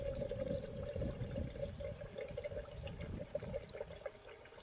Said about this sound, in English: all I'm going to do is I'm just going to fill this up with water